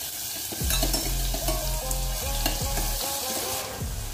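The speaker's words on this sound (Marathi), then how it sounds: "आता आपण यात 1 चमचा लसूण आणि जिऱ्याची पेस्ट घालून घेणार आहोत आणि याला व्यवस्थित परतून घेणार आहोत" Garlic and cumin paste sautéing in hot oil with mustard seeds in a pan, a loud close sizzle and crackle with spatula scraping and clinking as it is stirred, no voices.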